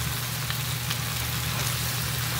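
Chipotle shrimp are stirred in a frying pan, giving a steady, close sizzle with faint scraping taps from the spoon.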